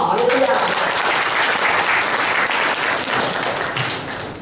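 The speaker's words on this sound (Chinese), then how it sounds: "感谢主啊，拍手掌声好不好？" Church congregation clapping and applauding together after a sermon point, a dense, sustained burst of hand claps that fills the room at steady volume for several seconds.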